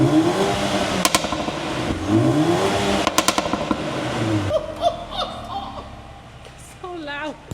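A 2024 facelift Mercedes-AMG A35 with an upgraded exhaust revs hard and close, its deep rumble rising and falling in two or three sharp throttle blips, followed by people talking and laughing.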